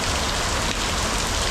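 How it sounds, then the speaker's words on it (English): Heavy rain pours steadily and loudly at a night market street in Melaka, Malaysia, a dense continuous hiss of drops drumming on surfaces close by, with no voices. "The rain, honestly, I haven't seen anything like it."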